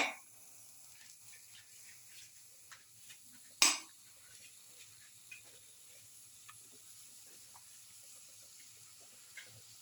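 A shrimp-and-garlic mixture is stirred in a pot with a utensil. The quiet scraping and clinks sit over a faint sizzle, and one sharper knock of metal on the pot stands out.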